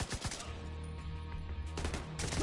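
Video game gunfire, with rapid bursts of loud, close shots at the start and again near the end, separated by a dull background rumble.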